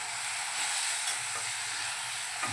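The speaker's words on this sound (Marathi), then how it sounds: "मेथी पहा कांद्यामध्ये छान मिक्स झाले" Fenugreek leaves stirred into onions in a pan, a steady close sizzle with soft scraping strokes and a couple of faint clinks, no talking.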